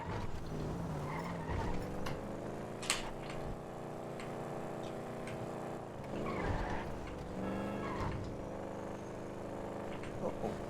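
Car driving and skidding in Grand Theft Auto 5, a steady engine drone with tire squeals and skids rising over it, plus a few sharp ticks and knocks, all loud and continuous without talk.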